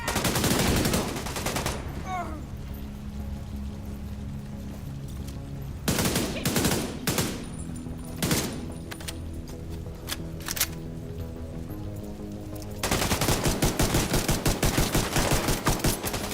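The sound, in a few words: gunfire in a video game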